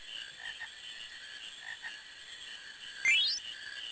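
Frogs croak in a soft, repeated rhythm in the frog-catching mini-game of Final Fantasy IX, with a rising electronic zip near the end, faint and alone under a steady hiss.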